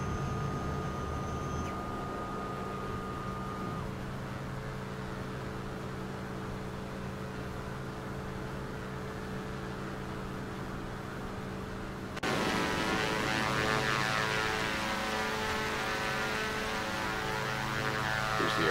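A propeller airplane's engine drones with a steady, tonal hum, then surges louder partway through as power comes up for takeoff, continuous and close with no talking.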